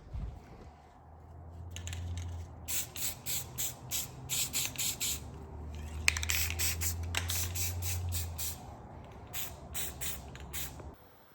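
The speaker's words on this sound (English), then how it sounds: "Don't forget to spritz it with a little paint so that weld don't rust." Spray paint is spritzed from a can onto a weld on a homemade bed dolly for a 1967 C10, in a series of short, close hissing bursts with a low steady hum underneath.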